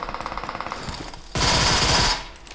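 A gun fires in the video game PUBG Mobile: rapid, rhythmic automatic shots patter at first, then a loud, sustained burst of fire cuts off abruptly into quieter shots.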